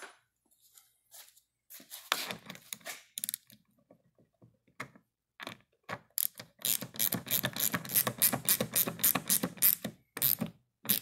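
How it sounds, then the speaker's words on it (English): A half-inch ratchet wrench tightening a bolt while installing a removable pickup truck bed storage box, with sparse clicks at first, then fast, loud runs of ratcheting clicks close by. "Then grab a 1/2-inch wrench."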